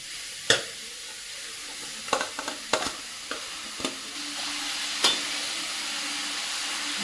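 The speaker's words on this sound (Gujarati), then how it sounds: "તો ઘી ગરમ થઈ ગયું ને એટલે એની અંદર આપણે હવે ગાજર નાખી દઈશું." Grated carrots hitting hot ghee in a pan for carrot halwa, a steady frying sizzle with scattered clinks and stirring scrapes, fairly close and moderately quiet, no voices.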